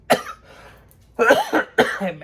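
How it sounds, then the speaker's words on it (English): Three harsh coughs, close by: one sharp cough, a pause, then two rough coughs in quick succession. "I'm coughing so much and I'm having problems with my breathing."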